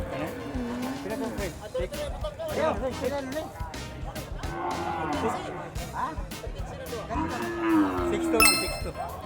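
Carabao (water buffalo) and cattle at the Bacong stockyard, with repeated low moos and lowing calls rising over a busy livestock-market crowd; people chatter and talk throughout, and a car passes nearby.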